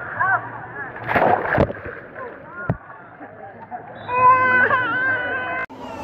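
Someone jumps into an outdoor swimming pool in Puerto Vallarta, Mexico, making one sharp, close splash. Voices talk and call out before and after it.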